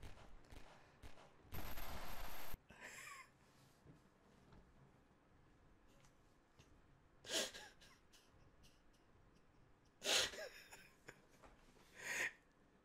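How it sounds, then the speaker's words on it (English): Enemy gunfire in a sniper video game hits the player in several separate short bursts, one long loud burst early and sharper, quieter cracks later, spaced between stretches of low background noise. "They're shooting at me."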